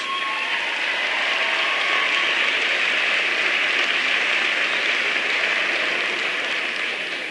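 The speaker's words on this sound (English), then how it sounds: "Give Bill Grace a big round of applause." Steady, dense applause from an audience at a town hall event, a continuous wash of clapping that holds evenly throughout without voices on top.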